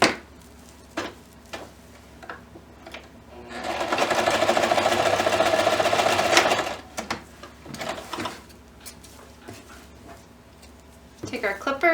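A sewing machine back stitching through a quilted hot pad runs in a steady, close whir for a few seconds, with quieter handling noises before and after and a person speaking around it.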